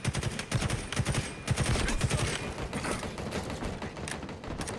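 Rapid automatic gunfire in a Halo Infinite ranked Strongholds match, dense bursts of close shots and clattering weapon mechanics that thin out into scattered, more distant firing.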